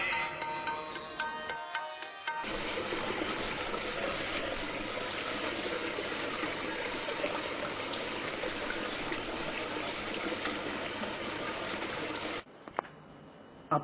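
Water pours steadily into a bottle from an outdoor source, a continuous close gushing trickle that starts suddenly after a quiet moment, holds for about ten seconds, then stops.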